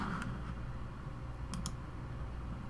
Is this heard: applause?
no